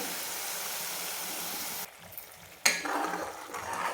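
Masala paste sizzles in oil in a pan for a chicken sukka fry, with a steady broadband hiss that drops out briefly and then returns louder with stirring scrapes, close and without talk.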